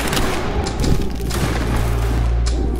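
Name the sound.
musket volley fired on command, from a video game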